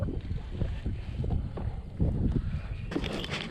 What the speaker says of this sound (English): Really liking this wind though.